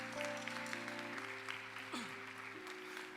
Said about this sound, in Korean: 우리가 좀 뜨거운 박수로 함께 좀 축복합시다